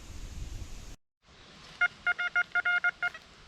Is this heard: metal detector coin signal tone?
yes